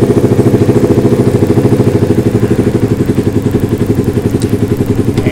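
Suzuki GSX-R150 motorcycle idling with an R9 Misano aftermarket exhaust, a loud, close, steady rhythmic single-cylinder putter at around 1000 rpm with even pulsing throughout.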